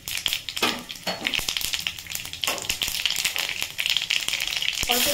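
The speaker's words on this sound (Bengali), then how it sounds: "একটু ফোড়ন দিয়ে দিলাম, শুকনো লঙ্কা আর গোটা সর্ষে" Dried red chillies and whole mustard seeds crackle and sizzle in hot oil for a chutney tempering, with rapid irregular pops and spits close up and a faint clink of a pan.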